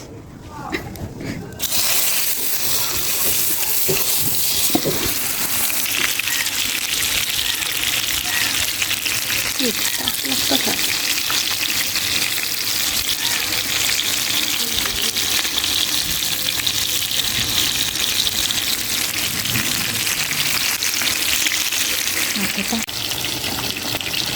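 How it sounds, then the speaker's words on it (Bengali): Rohu fish frying in mustard oil in a kadai over a wood-fired stove, giving a steady, loud sizzling hiss that runs nearly unbroken for the whole stretch after a brief quieter start. "মাছগুলো বাজার জন্য আমি ফার্স্টে কড়াই বসে দিয়েছি এবং সরিষা সরিষার তেল দিয়ে দিলাম"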